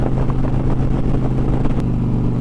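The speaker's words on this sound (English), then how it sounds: "listening to the exhaust, and it's got a nice, it's not killing my ears, drone to it" A Dodge Challenger cruising on a group drive, its exhaust producing a steady, moderate low-pitched drone mixed with road noise.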